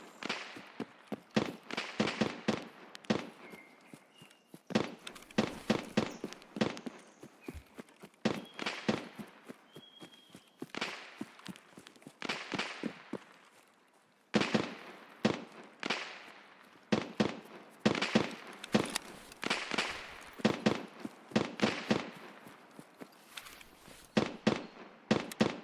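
Distant gunfire on the Woods map of the video game Escape from Tarkov... irregular bursts of sharp, far-off shots and volleys crackling on and off, quiet and echoing, with no talk.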